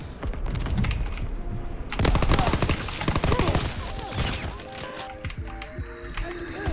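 Shotgun blasts and bursts of gunfire crack out in Call of Duty: World War 2, a dense flurry of sharp shots with mechanical clatter, loud at first and thinning toward the end.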